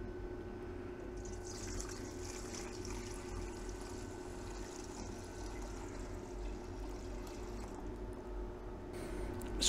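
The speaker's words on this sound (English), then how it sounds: "I'm going to add it to the stainless steel bowl." Silver nitrate electrolyte holding about 600 grams of dissolved silver is poured into a stainless steel bowl, giving a steady liquid pour and trickle throughout with a low continuous hum beneath.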